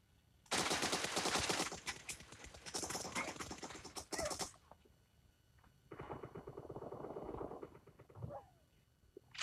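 M4 rifle fire in PUBG Mobile, with two long bursts of rapid automatic shots at close range followed by a quieter stretch of further firing and a few scattered sounds.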